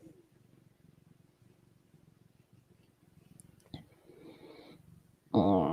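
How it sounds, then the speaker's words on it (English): A cat purrs close by in a soft, steady, rumbling rhythm for several seconds before a louder voice breaks in at the end. "Because he was just purring."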